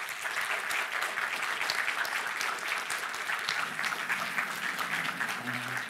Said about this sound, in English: Please, big applause for them.